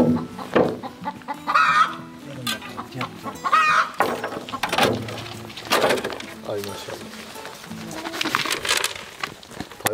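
Chickens cluck and squawk close by in a coop, with bursts of excited fowl calls overlapping throughout and people's voices mixed in.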